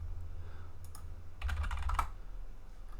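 Computer keyboard keys tapped in a short burst while entering a number into Blender 4.0 software, a quick cluster of close clicks in a quiet room with no talking.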